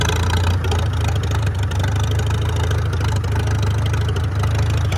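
A Farmall F-12 tractor engine, an old auction find, idles at close range with a steady low rumble that holds even throughout.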